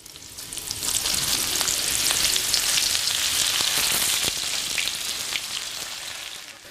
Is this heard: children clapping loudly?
no